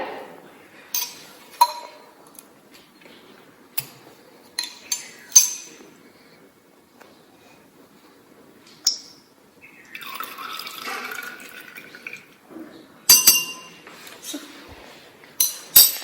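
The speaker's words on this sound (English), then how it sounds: "here I am using beaker to collect the wastewater." Water pours and drips into a glass beaker during zinc washing in a chemistry lab, with scattered glassy clinks and a longer splashing stretch in the middle, all close and fairly quiet.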